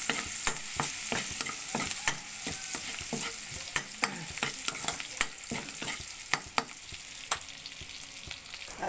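Garlic stir-fried in a pan for fried rice, with a continuous hiss of sizzling oil broken by frequent sharp scrapes and taps of a utensil, close and busy, no speech.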